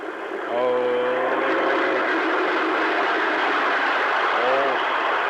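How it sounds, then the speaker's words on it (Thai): A train rumbles steadily past, a broad sustained roar filling the clip, with a short horn-like tone near the start and another near the end. "มันผ่านเจ้าเสียงรถไฟ"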